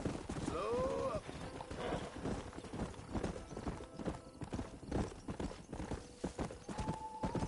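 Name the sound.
horse hooves and neigh, video game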